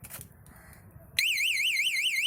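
A bike's anti-theft alarm goes off when a key is inserted while it is locked: after a brief quiet moment, a loud electronic siren starts abruptly with a fast, warbling up-and-down tone close by.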